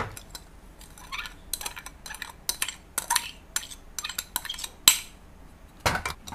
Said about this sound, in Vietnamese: khuấy cho nó tan hết đường ra.